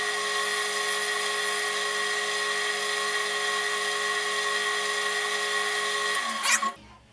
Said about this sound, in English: So now we're going to get that handle sanded up here